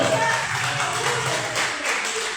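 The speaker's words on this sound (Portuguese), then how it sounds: "E a igreja aplaude ao Senhor, aplaude ao Senhor, aplaude ao Senhor." A church congregation at an Assembleia de Deus service in São Paulo, Brazil, claps steadily and densely, a continuous wash of many hands held at an even level, with voices mixed in.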